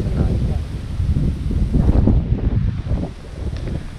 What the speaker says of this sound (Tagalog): Ah, malakas ang hangin dyan.